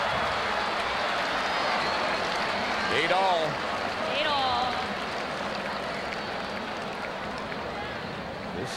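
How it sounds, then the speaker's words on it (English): Crowd at the 1986 US Open women's tennis semifinal, Navratilova versus Graf, cheering and applauding in a continuous roar that swells briefly, with a commentator and umpire talking over it. "This crowd's going crazy."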